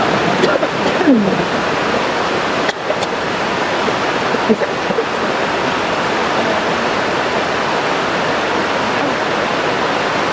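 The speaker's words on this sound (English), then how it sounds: "I just came back to the water, and it's so peaceful and calming." Flowing water at the waterside makes a steady, broad rushing wash throughout, with a few soft bumps and faint voice-like traces.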